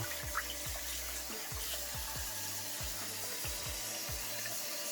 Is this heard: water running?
yes